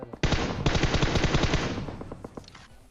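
Rapid automatic gunfire in PUBG Mobile, a dense stream of evenly spaced shots lasting over two seconds, loud and close, then tapering into fainter scattered shots.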